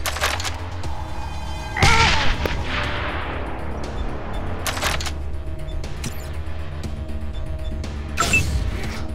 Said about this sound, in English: Throw a grenade right there.